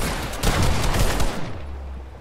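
Rapid bursts of gunfire from a Fortnite-style shooter video game, several quick shots in a tight cluster at close range, then fading out.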